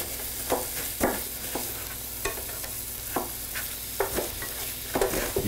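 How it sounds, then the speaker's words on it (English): Ground beef and sausage frying in a pan, stirred with a utensil: a steady sizzle runs throughout while sharp scraping stir strokes land every second or so, close and moderately loud, with no voices. "you have to stir the ground beef and sausage more frequently"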